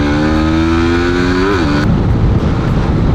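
Suzuki Raider Pro motorcycle engine revving loudly and close, climbing to a peak around one and a half seconds before dropping abruptly into a rougher, lower idle-like rumble.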